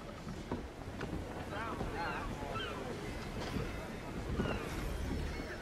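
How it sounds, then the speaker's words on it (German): A sailing ship at sea in Assassin's Creed 3 gives a steady rush of wind and waves with creaking and splashing, a continuous open-water ambience at moderate level. "Sie segelt hart am Wind."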